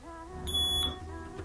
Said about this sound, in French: Une fois que vous entendez ce bip,